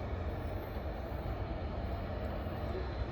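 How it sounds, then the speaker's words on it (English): A long freight train of auto rack cars bound for Cincinnati's Queensgate Yard rumbles past close by, a continuous broadband roar of rolling wheels, steady in loudness throughout. "That train was moving along pretty good."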